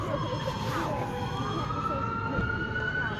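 Fire truck siren wails from a nearby fire hall, a rising and falling tone heard from a distance over steady background noise.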